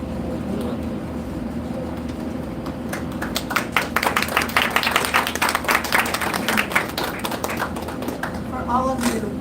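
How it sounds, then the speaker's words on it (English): Applause rises from a congregation at an Erev Shabbat service held by a river, many hands clapping in a dense, sustained patter that swells midway and continues steadily to the end. "the applause is much deserved"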